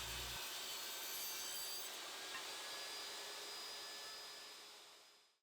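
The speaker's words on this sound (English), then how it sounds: "not unsafe if you keep things aligned and just let the blade cut at its own pace" A saw blade cuts through a wooden top rail to taper it, one steady loud continuous cut up close that winds down and stops at the end.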